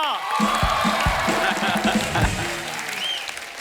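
A TV comedy talk-show studio audience applauds loudly and continuously, with claps filling the space and a few whoops, while voices speak over the clapping.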